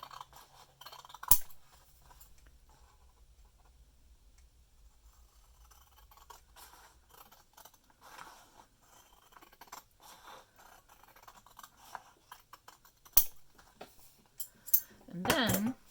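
Scissors snip through the extra strip of paper for a two-signature journal, a sharp cut early on and a few brief crisp snips and rustles later, fairly close and quiet with light handling noise between.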